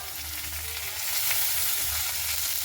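Chopped carrot stirred in a hot frying pan, a loud, close, continuous sizzle with scraping strokes of the spatula, no voices.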